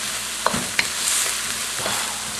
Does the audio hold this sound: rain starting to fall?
no